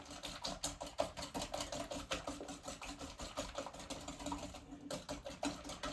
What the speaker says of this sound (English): we're just going to whisk this up.